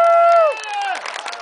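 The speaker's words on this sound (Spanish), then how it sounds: "Fuerte el aplauso para el Charro." An audience at a contest held at a water park cheers and shouts for a contestant, loud voices rising together in a short, bright burst that then tapers off.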